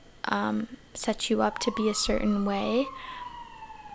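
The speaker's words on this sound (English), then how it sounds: "sorry for the sirens if you can hear them" Emergency vehicle sirens wail outside, a faint rising and falling tone drifting in from a distance beneath close indoor talk.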